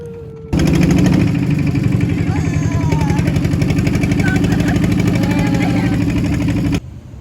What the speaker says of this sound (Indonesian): Penyeberangan dilakukan dengan perahu kecil atau kelotok.